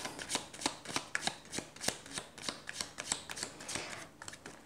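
A deck of oracle cards is shuffled by hand for a reading, giving a steady run of soft, rapid riffling flicks in quick rhythmic bursts, close and quiet, with no talking.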